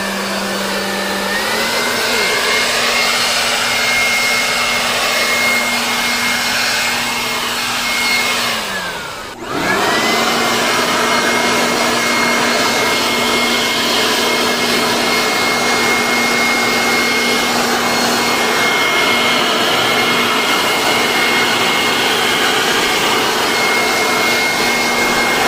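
A Portland 3-in-1 corded electric leaf blower runs with a loud, steady whine and rushing air, dips and cuts out briefly partway through, then returns at full power for a long stretch, with no talk.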